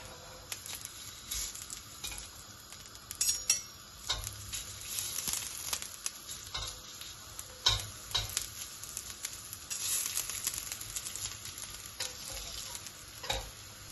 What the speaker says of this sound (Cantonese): 呢啲薑咧就係攞嚟爆一爆佢先